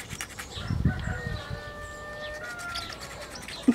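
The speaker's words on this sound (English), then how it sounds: "Roosters." A rooster crows in the middle distance with a drawn-out, wavering call, accompanied by a few clucks and background rustling.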